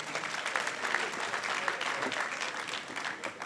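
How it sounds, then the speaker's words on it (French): An audience applauds at a school awards ceremony in Dakar, with dense, continuous clapping at moderate volume through the whole stretch. "Dr Massamba Gueye, je vous demanderai de l'applaudir fortement."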